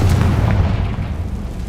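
A Confringo blasting spell explodes in Hogwarts Legacy, a deep, booming rumble that rolls and fades over about two seconds.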